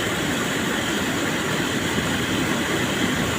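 Heavy rain pours down with water rushing along a residential street, a dense, steady roar that stays loud and unbroken throughout, with no voices.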